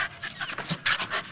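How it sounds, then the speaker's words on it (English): Several dogs panting close by in rapid, uneven bursts of breathy huffs, fairly loud, with no voices. "Too many dogs."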